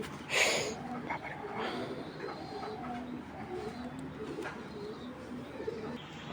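Soft, low cooing of an imported racing pigeon repeats steadily in the background while a person talks over it.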